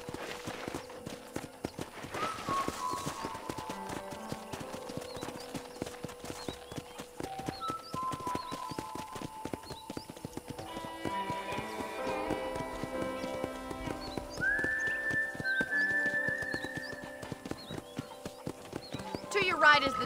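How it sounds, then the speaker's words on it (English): Steady clip-clopping horse hooves from Red Dead Redemption, rhythmic and continuous under people talking, with light music and a brief horse whinny. "I picked out a fine horse for you."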